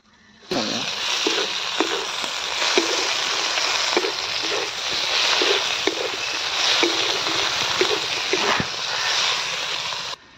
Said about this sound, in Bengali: এর মধ্যে দিয়ে দেব টমেটো কুচি।